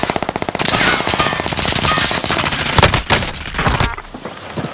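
Sustained automatic machine gun fire in the video game Call of Duty, loud and close, a rapid continuous stream of shots that shifts into heavier bursts before easing off.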